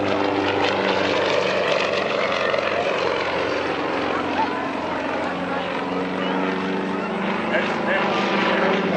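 A Yak-55M aerobatic plane's engine drones steadily through a series of vertical spins, with a continuous broadband propeller roar that stays loud and fairly constant throughout.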